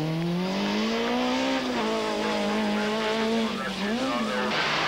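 A Skoda kit car at full throttle on a 1996 Croatian rally stage, its engine howling loud and close with rising and falling revs as it shifts, tyres scrabbling beneath.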